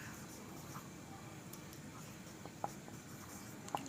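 A physics equation for velocity being written by hand, with faint scratchy strokes and a couple of small taps heard over a noisy room hum and low background speech.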